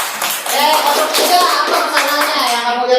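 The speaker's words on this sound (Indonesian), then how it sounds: "Betul, tepuk tangan dong." Sustained applause from a group, dense clapping that stays loud and steady throughout, with a few voices faintly mixed in.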